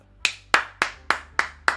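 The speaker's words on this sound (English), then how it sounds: "I'm clapping for myself" A man claps his hands six times at an even, slightly quick pace, each clap sharp and close with a brief decay, in an otherwise quiet room.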